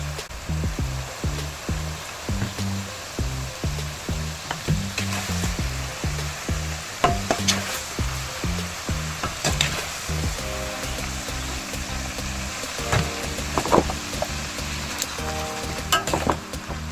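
Chicken frying in oil, for a chicken roast, a continuous loud sizzle and bubbling throughout, with rhythmic low clatters and thumps from nearby kitchen activity layered over it, no talking.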